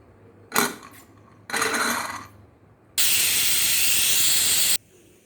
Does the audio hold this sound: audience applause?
no